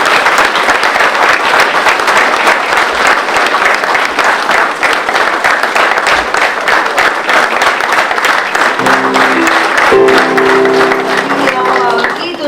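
An audience at a gymnasium graduation ceremony gives loud, sustained applause, dense clapping throughout, with a few sustained musical tones entering near the end.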